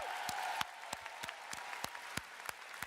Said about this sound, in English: I really give yourselves a round of applause for joining us here in Anaheim.